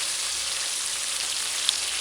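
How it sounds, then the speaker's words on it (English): Onions sauté in a frying pan for a chicken sandwich, giving a steady, close sizzle that hardly changes, with one faint tick near the end. "And let's add the onions to the frying"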